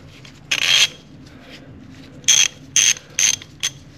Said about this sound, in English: I'm going to screw it all the way down by hand first.